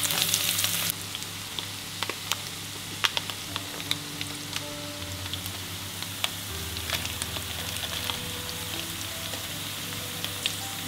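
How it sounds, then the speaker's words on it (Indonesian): Ginger and garlic sauté in a hot pan with a steady, crackling sizzle and scattered sharp pops, close and continuous for about eleven seconds with no talking. "ditumis dulu"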